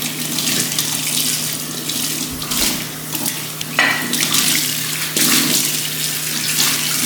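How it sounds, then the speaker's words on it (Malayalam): Tap water runs over a clay pathiri pan being scrubbed with a soft scrubber and dish wash, a continuous splashing stream with bursts as the pan shifts under the flow, close and loud. "ഇനി ഇതിനെ ഞാനൊരു സോഫ്റ്റ് സ്ക്രബ് ഉപയോഗിച്ചിട്ട് കുറച്ച് ഡിഷ് വാഷൊക്കെ ചേർത്തിട്ട് ഒന്ന് വാഷ് ചെയ്തെടുക്കാം കേട്ടോ."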